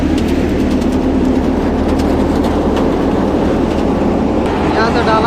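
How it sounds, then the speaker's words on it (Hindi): A rice harvester unloads grain into a tractor trolley in a field, a loud continuous rumble of engine and pouring rice with a steady mechanical drone, no pause from start to finish. "यहाँ पर धान लोड हो रहा है ट्रैक्टर का ट्रॉली पे।"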